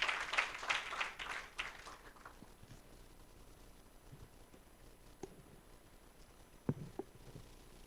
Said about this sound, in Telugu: క్లారా గట్టిగా మన చప్పట్లు అద్భుత సాక్షి